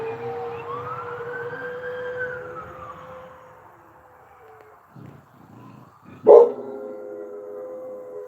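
An emergency vehicle siren wails up and down as it passes a house, fairly near and fading, while a dog barks sharply near the end.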